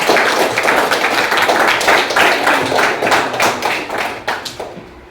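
Loud, close applause from a class of schoolchildren for a classmate, brisk overlapping claps in a fast rhythm that taper off near the end.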